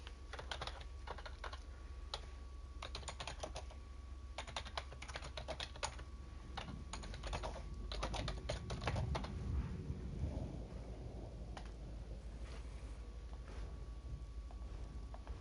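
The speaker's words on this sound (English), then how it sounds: "Dan's having trouble typing." Steady keyboard typing, a run of close clicking keystrokes over a constant low hum and broadband noise, with a brief rumbling swell partway through and no voices.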